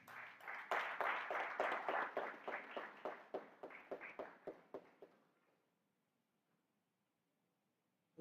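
A room full of people claps for the student council president at a university youth democracy forum: dense, loud applause with distinct hand claps that holds steady, then tapers off and fades to near silence.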